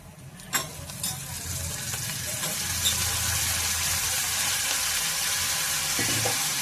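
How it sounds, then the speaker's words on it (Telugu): Eggplant pieces drop into a hot pan for curry, starting a steady close sizzle that swells into a continuous frying hiss with an occasional light stir or tap. "ఇప్పుడు వంకాయ ముక్కలు కూడా వేసుకుందామండి."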